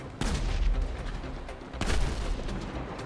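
Pistol shots ring out in Grand Theft Auto V, with two sharp, booming reports about a second and a half apart, each trailing into a rumbling echo.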